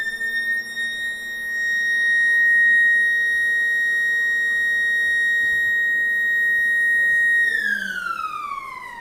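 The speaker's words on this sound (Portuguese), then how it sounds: "Acho que esconderam aqui dentro esse alarme." An electronic alarm sounds as a loud, steady, piercing tone that holds for several seconds, then bends downward in pitch near the end.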